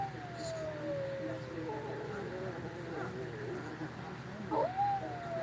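A pet dog howls in rising and falling tones near a person talking, with a longer wavering howl near the start and a short rising one near the end.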